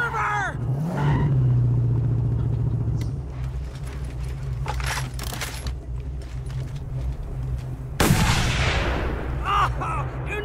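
Gunfire and vehicle rumble in the Mad Max video game during a car chase, a continuous loud engine drone with bursts of shots and impacts, sharper blasts near the end, with voices over it.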